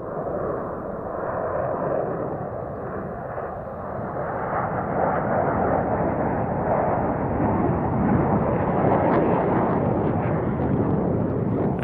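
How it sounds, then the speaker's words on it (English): Eight Black Eagles jets fly the Tornado Break at a military airshow in Riyadh, a loud, continuous roar of jet engines that holds steady and swells slightly as the formation passes, with no voices. "Black Eagles end their display with another extraordinary new manoeuvre, the Tornado Break, which puts all 8 aircraft straight into the landing pattern."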